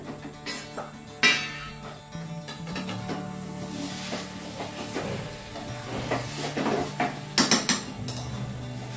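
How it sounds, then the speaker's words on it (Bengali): Spoon stirring muri ghonto, a Bengali fish-head and rice dish, in a pot, with scattered scrapes and clinks against the metal over a low steady simmering hiss, no talk. "নেড়ে দিই।"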